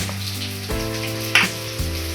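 Chopped onion hitting a hot pan for a Karnataka-style tomato curry, a steady near sizzle of frying with a few brief clatters and a sharp spike partway through.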